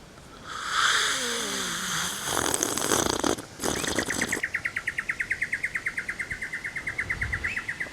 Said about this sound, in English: Those birds sound